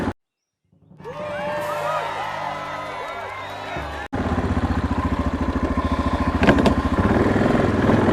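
A 2002 Yamaha Kodiak 400 ATV plows heavy snow with its wheels spinning. After a near-silent start, the engine drones steadily, then grows louder and more strained with a rapid pulsing throb in the second half.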